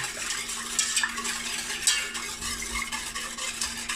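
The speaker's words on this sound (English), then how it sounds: "I'm just gonna mix everything with my whisk" A whisk stirs a vegan custard mixture in a pot, giving a steady, close swishing with light metallic clinks and a faint hum underneath.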